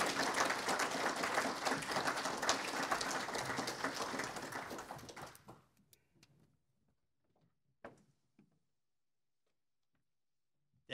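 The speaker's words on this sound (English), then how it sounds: "Let's have a round of applause for this amazing panel tonight." Evening audience at a climate crisis panel discussion giving the panel a sustained round of applause that fades out after about five seconds, leaving near silence broken by a few faint knocks and rustles.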